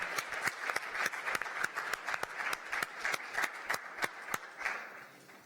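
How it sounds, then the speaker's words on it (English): A conference audience at a plenary session on the Iran deal claps for the panelists: a light, fairly distant round of distinct individual claps that carries on steadily for several seconds. "I think you will join me in a round of applause for our panelists."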